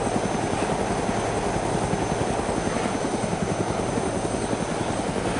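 Helicopter rotor and engine noise from the video game DayZ, a loud, steady chopping drone filling the whole stretch with no talk over it.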